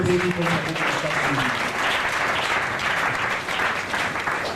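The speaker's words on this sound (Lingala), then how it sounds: "Acclamez tout le monde" Sustained applause from a seminar audience fills the whole stretch, a steady dense wash of clapping at fairly loud level with a brief voice at the very start.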